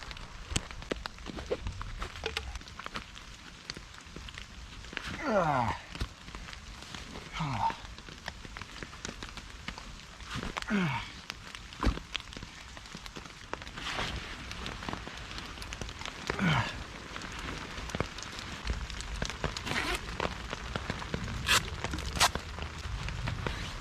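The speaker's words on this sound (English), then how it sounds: "So just a nice little walk in the rain." Steady patter of rain on the ground with occasional booted footsteps at a campsite, close by; no talking.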